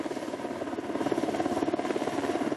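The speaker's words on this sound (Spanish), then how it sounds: "Un helicóptero del Grupo de Emergencias y Salvamento del Gobierno de Canarias se sumó desde la tarde del jueves a la búsqueda" Emergency rescue helicopter of the Canary Islands emergency and rescue service flying over the coast, its rotor giving a steady rapid thumping chop at moderate distance, continuous and unbroken, with no talk.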